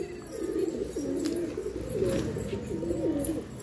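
Pigeons coo in low, rolling phrases close by while being caught and fed grain, with faint ambient noise and a few soft higher chirps in the background.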